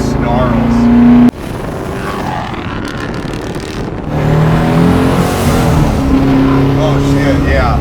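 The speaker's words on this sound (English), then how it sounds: "God, the sound of this thing it just snarls." A twin-turbo 1969 Camaro pro-touring car with around 1500 horsepower drives with a loud, continuous engine roar under heavy wind buffeting, briefly dipping near the start before building again.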